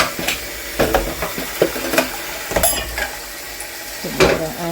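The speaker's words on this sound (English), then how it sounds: "I'm doing a stir fry, so of course gotta stir fry it" Turkey and noodles stir-frying over high heat, with a constant loud sizzle and repeated clacks and scrapes of a utensil against the pan, close up with no talking.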